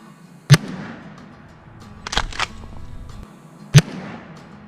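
Two sharp, loud blasts from a 20 gauge shotgun at a squirrel hunt, about three seconds apart, each ringing off into the outdoor surroundings; a few quieter knocks and rustles sit between them.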